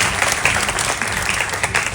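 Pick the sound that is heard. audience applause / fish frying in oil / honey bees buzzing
audience applause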